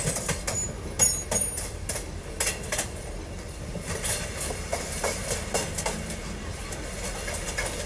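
A Mumbai local train running in the Open Rails train simulator, with a steady rumble of rolling wagons and repeated rhythmic clicks and clatters from the track over a continuous engine drone. No one speaks.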